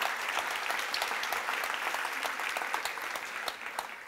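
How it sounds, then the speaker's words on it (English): Steady audience applause fills the whole stretch, dense and even with many hands clapping at once, loud and unbroken by any talk. "please join me in a round of applause for all the people who've made this happen."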